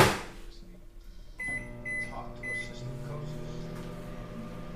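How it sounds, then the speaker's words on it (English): A microwave oven runs while heating soft plastic for homemade swimbaits, giving a steady low hum with a few short high beeps near the start, and someone speaks briefly nearby. "Then we're gonna hit it in the microwave for another,"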